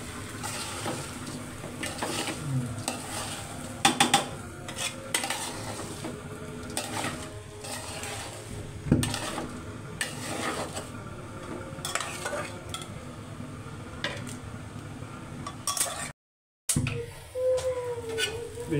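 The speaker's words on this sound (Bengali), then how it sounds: "এভাবে নাড়াচাড়া দিলে ভালো মিক্সড হয়ে যাবে" Biryani is stirred in a pot with repeated scraping and clinking strokes over a soft, steady sizzle, close and fairly loud, with one brief dropout near the end.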